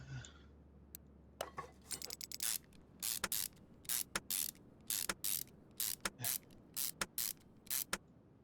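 Long bolts being wrenched out in Car Mechanic Simulator 2021, heard as a rapid series of crisp metallic ratcheting bursts in a steady rhythm, close and clear with no talk over them.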